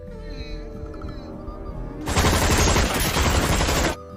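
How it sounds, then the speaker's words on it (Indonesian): A film scene with a character shooting blindly: after about two seconds of quieter tonal background, a loud, dense burst of rapid gunfire erupts and runs for nearly two seconds before cutting off abruptly. "Gisu tak mau didekati dan menembak membabi buta"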